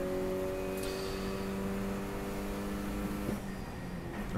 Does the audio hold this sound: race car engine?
yes